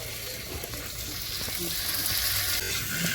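Snails fry in a pan, giving a dense, continuous sizzle close by, with faint stirring scrapes mixed in throughout and no talking.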